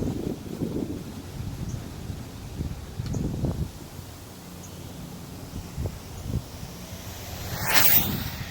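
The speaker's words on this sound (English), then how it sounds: "Plus it's windy" Outdoors during an RC car GPS speed run, gusts of wind buffet the microphone in low rumbling bursts, rising and falling irregularly, with a brief hissy swell near the end.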